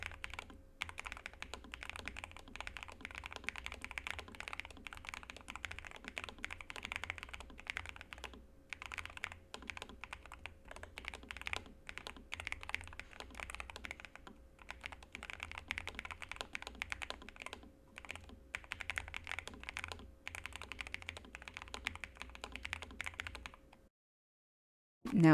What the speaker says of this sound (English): Now let's hear the typing sound of the Node 75.